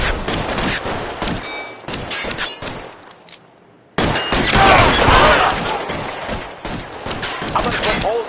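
Video game shootout with police in 1940s Los Angeles, with bursts of rapid gunfire, a brief lull and then a loud, dense volley of shots and ricochets.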